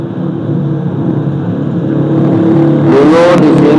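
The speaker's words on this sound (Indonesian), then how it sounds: "kita mendengar lalu lalang kendaraan, ya kan?" Vehicles pass along a road by a mosque in Indonesia, a steady loud engine rumble that swells near the end as a car goes by close with a rising whoosh.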